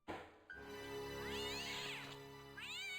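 A cat in the video game Broken Sword: The Shadow of the Templars (Director's Cut) meows in two long, wavering, clear calls close up, with a sharp onset before the first.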